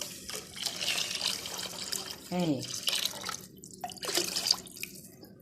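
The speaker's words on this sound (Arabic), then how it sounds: "ميه عاديه من الحنفيه" Plain tap water poured into a cooking pan in a home kitchen, with intermittent splashing and dribbling bursts and a few drips, while someone speaks briefly in between.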